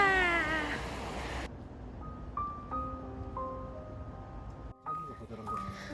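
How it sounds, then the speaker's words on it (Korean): A stray cat gives a few rising, plaintive meows up close at the start, followed by quieter household sounds and faint tones, with a voice murmuring softly in the background. "바보 같은 고양이들이"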